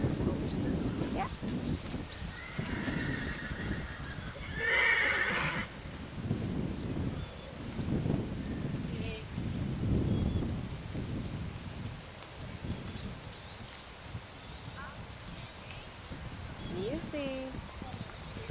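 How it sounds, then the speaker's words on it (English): A horse cantering on grass at a show-jumping event, its soft, muffled hoofbeats buried under steady wind rumble, with voices talking nearby. "Pick up your canter."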